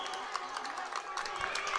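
A crowd at a high school football game cheers and claps in the stands, a continuous roar with scattered claps, heard at a distance under a commentator's voice.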